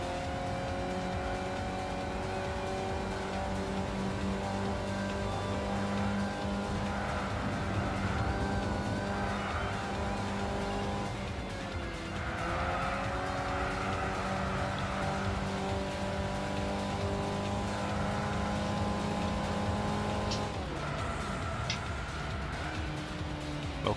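A compact sports-class race car in Gran Turismo 6 drives steadily with a continuous engine drone, shifting pitch through gear changes and slowing, with a faint tire squeal near the end.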